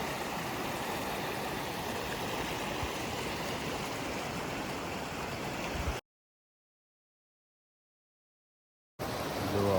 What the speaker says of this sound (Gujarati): પાણી હાલ્યું જાય, કાંઈ ઘટે નહીં એવું.